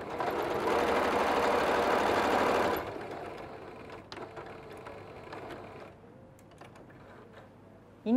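A sewing machine runs steadily for about three seconds while stitching the sides of a batik fabric tote bag, then stops, leaving quieter handling and faint mechanical clicks close by.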